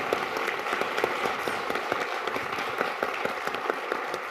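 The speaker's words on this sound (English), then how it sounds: "another round of applause for our panelists" Steady applause from a sizable audience after a panel discussion, dense overlapping claps holding at an even level throughout.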